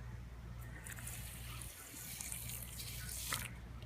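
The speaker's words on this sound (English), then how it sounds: "Got a little bit more tank water." Water from a home aquarium fish tank being poured or sloshed, a soft, steady trickling wash with a low hum underneath and a brief splashier moment near the end, fairly faint and close.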